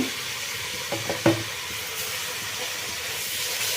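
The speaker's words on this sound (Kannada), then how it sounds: "ಈಗ ಕೊತ್ತಂಬರಿ ಪುದೀನ ಮತ್ತು ನಾನು ಹೆ ತಗೊಂಡಿರೋ ಒಂದು ಕಟ್ಟು ಮೆಂತ್ಯ ಸೊಪ್ಪು ಹಾಕ್ಬಿಡ್ತೀನಿ ಇದು ಸ್ವಲ್ಪ ಫ್ರೈ ಆಗಲಿ" Fenugreek leaves, coriander and mint frying in a pan, a steady moderate sizzle with a few quick scrapes of a spoon near the start.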